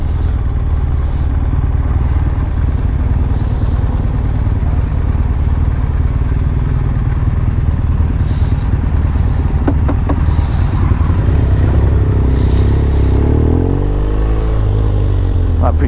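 A 2015 BMW R1200R motorcycle on the move gives a loud, continuous engine drone mixed with wind rush, with the pitch rising and falling as the rider accelerates.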